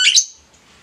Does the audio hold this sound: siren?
no